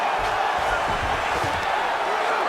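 A dense, steady roar from the arena crowd at a UFC fight between Islam Makhachev and Israel Adesanya, a continuous wash of cheering with thuds underneath.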